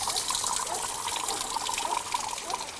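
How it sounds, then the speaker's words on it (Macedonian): Fresh mountain spring water piped into a complex near Tetovo runs in a steady, bright splashing stream, close and continuous, with no voices over it. "Ова е еден од тие извори кој што е донесен овде во објектот"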